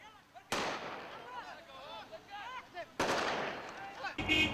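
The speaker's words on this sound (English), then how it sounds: "Others will shoot at anything, even our armoured jeep." Gunfire cracks out on a street in Iraq during the 2003 war, sharp bursts amid a chaotic scene with birdlike chirping tones and other noise, loud and abrupt, with a jarring cut midway.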